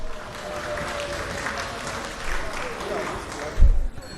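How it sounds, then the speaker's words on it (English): Applause from members in a parliament session, a continuous wash of many hands clapping in a large chamber with a steady crowd texture, ending with a low thump near the close. "They are clapping for their member."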